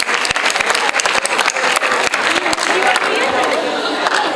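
An audience claps loudly for a singer's melodious performance at an International Women's Day event, a dense burst of many sharp hand claps with crowd chatter mixed underneath.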